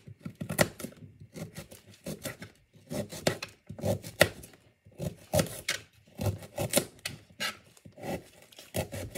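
Knife chopping carrots on a cutting board for a crockpot pot roast, a series of quick rhythmic chopping bursts with short pauses between runs, close and moderately loud.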